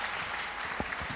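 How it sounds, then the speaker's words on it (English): Faint, brief applause from a conference audience for a speaker and panelists at a marketing event, a soft steady patter of clapping. "round of applause for our speaker and panelists as well first"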